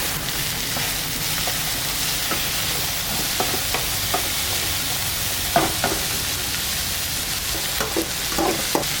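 Onions and tomatoes sautéing in oil with salt for a paneer salna sizzle in a steady, loud hiss, punctuated by occasional soft scrapes and taps of a stirring spoon.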